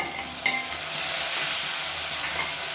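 Onions and tomato sautéing in a pan for masala kuska, a close, steady sizzle with stirring scrapes and one brief clatter near the start, no voices.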